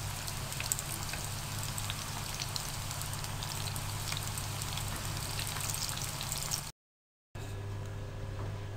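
Keema and vegetable pakoras frying in hot oil, a steady soft crackling sizzle with fine pops, continuous and fairly quiet, broken briefly by a short gap of silence.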